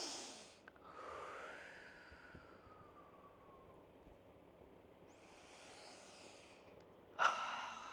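Slow guided breathing: a soft, drawn-out inhale and exhale with faint breathy hiss, quiet and close, ending in a sharper, brief breath sound near the end, no speech over it.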